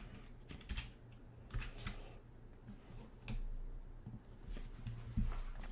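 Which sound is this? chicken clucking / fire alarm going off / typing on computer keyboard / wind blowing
typing on computer keyboard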